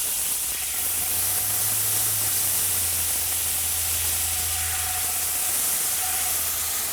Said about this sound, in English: And I'm adding half a cup of dry white wine.